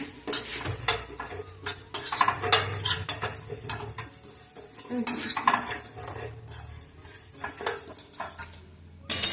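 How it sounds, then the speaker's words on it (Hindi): Spices roast with asafoetida in a pan while a metal spoon stirs them, giving repeated close scrapes and clinks against the pan over a light sizzle. "देखिए मसाले अभी हमारे भुन गए हैं।"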